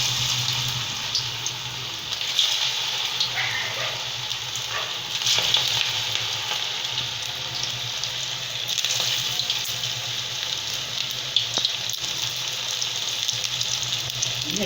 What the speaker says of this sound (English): Now the oil is heated. I am adding the vadas here.